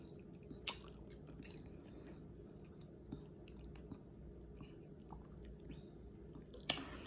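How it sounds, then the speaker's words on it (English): Close, quiet chewing while tasting a breakfast egg with grits and sausage, soft squishy mouth sounds with a few brief clicks and one sharper crunch-like snap near the end. "Let me taste the egg for you."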